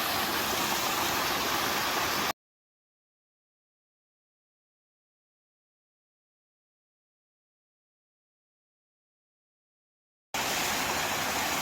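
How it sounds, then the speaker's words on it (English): A waterfall on the Appalachian Trail roars as dense, even white noise for a couple of seconds, then drops into a long stretch of total silence before the same steady rush returns. No one speaks. "This is simply the most beautiful waterfall I think I've seen on trail."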